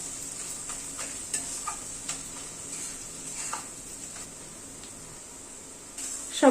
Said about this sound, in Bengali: সব গুঁড়ো মশলাগুলো দিয়ে একটু নাড়াচাড়া করে নিই।